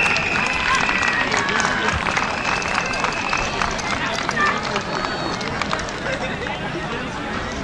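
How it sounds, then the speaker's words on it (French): A large crowd applauds with dense, sustained clapping and cheering at an outdoor inter-village games event, loud and continuous throughout, with a brief whistle-like tone early on. "Demande pour les applaudissements bien fort."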